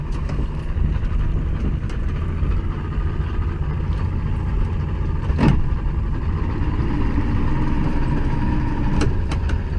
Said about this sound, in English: the engine's scaring them